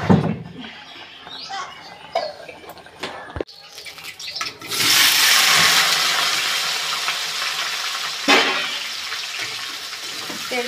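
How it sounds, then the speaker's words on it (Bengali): Potatoes dropped into hot mustard oil in a kadai: after a few quiet seconds of handling noise, a loud, sudden hiss bursts up and keeps crackling steadily to the end. "তেলটা গরম হয়ে গেছে, আলু দিয়ে দিয়েছি।"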